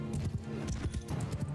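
Horses gallop across a battlefield in Mount & Blade II: Bannerlord, with rapid, fairly loud clip-clop hoofbeats in an uneven rhythm, alone and without talk.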